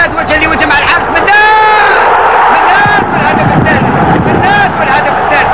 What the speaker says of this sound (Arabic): 2 مقابل 0 وفرحة كبيرة عند الجمهور